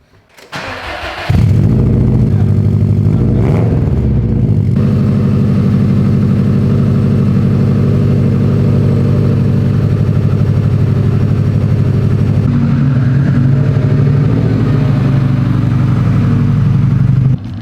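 A Subaru engine starts with a sharp burst, then settles into a deep, loud, steady rumble from a throaty aftermarket exhaust, running close by for a long stretch.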